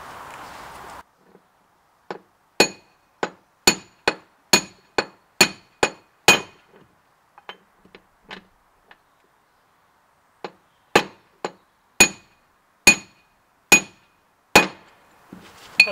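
Hammer knocking a new bearing onto the vertical drive shaft of an old Mercruiser Bravo One sterndrive, a run of sharp metallic clinks in quick series, pausing, then resuming, close and clear.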